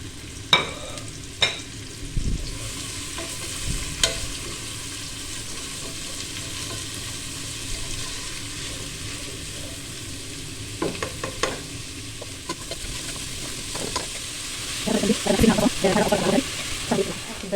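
Onion frying in hot oil for Palestinian stuffed cabbage, a low steady sizzle with scattered clinks and stirring scrapes that get busier near the end.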